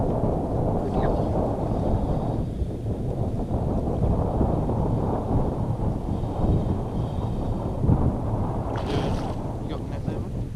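Wind blows across a lake around a small fishing boat, a steady low rumbling buffet with lapping water, and faint voices under it.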